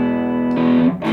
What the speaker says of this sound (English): a nice distortion sound when I turn it on